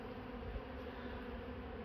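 Honeybees robbing in a bee garden in August make a faint, steady buzzing hum that carries on without a break.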